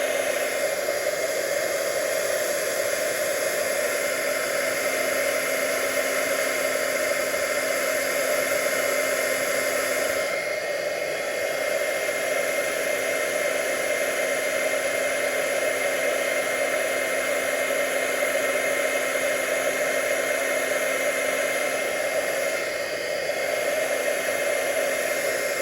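An embossing heat tool melts white embossing powder on vellum, producing a steady, close, airy whir that holds at an even level for the whole stretch with no talking.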